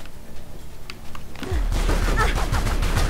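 Automatic machine gun fire in Tomb Raider Legend erupts after a quiet, talk-filled opening, becoming a loud, continuous rapid burst of shots that holds steady to the end.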